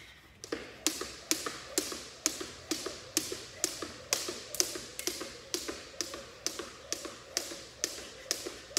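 Steady jump rope workout, the rope slapping the floor about twice a second in an even, crisp rhythm for nearly nine seconds, fairly quiet and close, with no talking.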